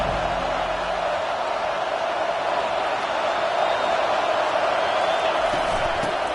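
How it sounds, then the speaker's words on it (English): A football stadium crowd roars in a steady, dense wall of noise as it welcomes the visiting team, with a commentator's voice faintly beneath. "This crowd bringing an ear-splitting welcome to their visitors."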